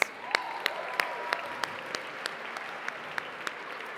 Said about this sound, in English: Congratulations to all of the winners. A big round of applause.